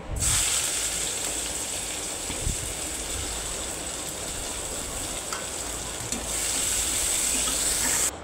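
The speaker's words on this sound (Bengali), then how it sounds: "মেথি ও তেজপাতা একটু ভাজা হয়ে গেলে তাতে পেঁয়াজ কুচি দিয়ে দিব" Chopped onion frying in hot oil with fenugreek seeds and bay leaf, a steady broadband sizzle and hiss running throughout with occasional small crackles and a brief knock near the middle.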